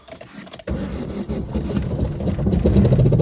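A Daewoo Lanos engine catching after the starter cranks, a sudden loud start that settles into a steady close idle rumble, rising slightly toward the end with no talk.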